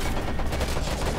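Gunfire from the Homefront: The Revolution video game, a dense burst of rapid shots crackling steadily and loudly throughout with no pauses.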